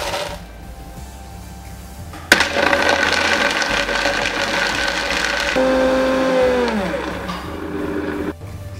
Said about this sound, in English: So this goes into the blender as well.